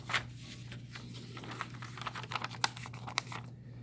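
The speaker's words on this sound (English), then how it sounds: "we're going to go ahead and fold it back up" A sheet of paper is folded up, giving faint, close crinkles and soft taps in an irregular run over a low steady hum.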